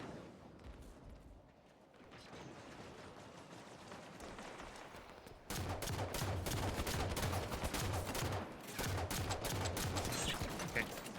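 Rapid automatic gunfire from a Halo 5 match, moderately loud and continuous. Bursts rattle for several seconds, thin out briefly, then return heavier and denser, with faint voice chatter underneath.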